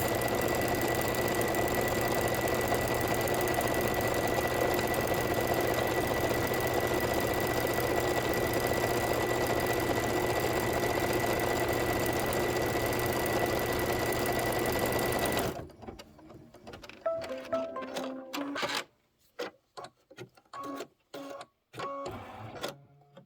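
An embroidery machine stitches out a Kimberbell design with a steady, fast mechanical whir and needle rhythm for most of the span, then stops into quieter scattered clicks and handling noises.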